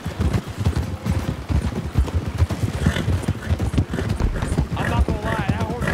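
Rhythmic clip-clop of horse hooves at a steady trot in Red Dead Redemption 2, fairly close, with people talking over it throughout.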